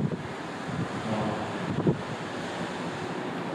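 Steady wind blowing through an abandoned hospital, a broad continuous rush with a brief gust swelling near the middle and no voices.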